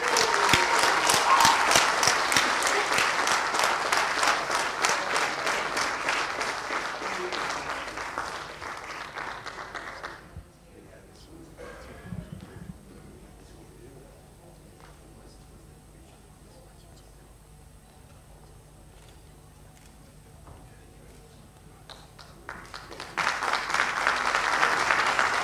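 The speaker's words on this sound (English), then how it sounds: "would you please give a round of applause for Mr. Cameron Jackson." An audience claps in applause for a guest at a televised event, dense and loud at first, then cut off into near silence before a second burst of clapping returns at the end.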